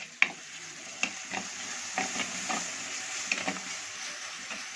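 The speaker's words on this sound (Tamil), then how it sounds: "நம்ம அரைச்சி வச்ச இஞ்சி பூண்டு விழுதை இதில் கொஞ்சம் போட்டுக்கலாம். நல்லா கொஞ்சம் கிளறி விட்டுக்கலாம்." Ginger garlic paste fries in a pan while being stirred for a chicken gravy, a soft sizzle broken by several distinct scraping strokes of the spoon, close and fairly quiet with no talking.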